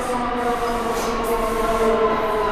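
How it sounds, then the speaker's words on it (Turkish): A New York City subway C train runs past with a steady rumbling roar and metallic rail hum, loud and continuous throughout, with no voices. "Mesela bu C Train bu her istasyonda duruyor."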